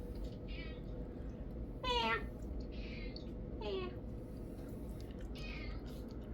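A pet cat meows several times in short, rising calls spaced a second or two apart, close by, with soft background noise and a little talk around them.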